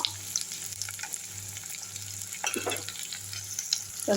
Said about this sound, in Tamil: நல்லா வதக்கி விட்டுடலாம் ஒரு ஒரு நிமிஷம் ஆகட்டும்